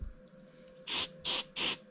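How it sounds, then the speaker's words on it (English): Three short, sharp hissing spray bursts in quick succession, close by, directed onto a glued French cleat shelf strip, with quiet pauses between them. "give it a little spray."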